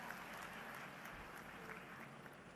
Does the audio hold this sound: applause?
yes